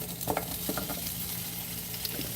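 Potatoes fry in a pan with a steady, close sizzle and a few scraping stirs breaking through the hiss.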